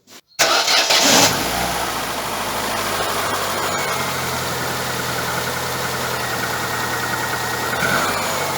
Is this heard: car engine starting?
yes